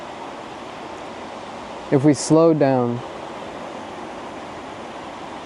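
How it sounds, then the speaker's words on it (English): A waterfall rushes behind a speaker outdoors, a constant broadband roar running steadily throughout with a brief bit of talk in the middle. "If right now you can hear the waterfall behind me"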